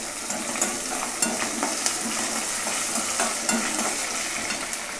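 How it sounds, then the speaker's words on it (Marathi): Potato pieces hit hot oil already flavoured with fried green chillies for a simple khichdi, giving a close, steady sizzle broken by repeated scraping stirs of a spoon in the pan, with no talking. "आता त्यामध्ये हे बटाटा टाकणार आहे।"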